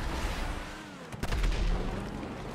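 A tank blowing up in GTA 5 Online, a booming blast near the middle of a steady gunfire-like background rumble, with a broad low thump and crackle before the din settles again.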